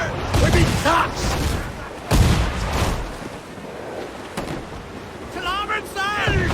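Pirate ship cannons firing in naval combat in Assassin's Creed IV Black Flag, repeated loud booms over wind and sea noise, with voices shouting between shots.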